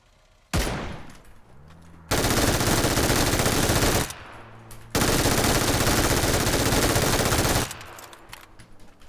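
An MG3 machine gun fires in a video game, a rapid roaring stream at about 990 rounds per minute, in two long sustained bursts after a short opening shot, loud and close.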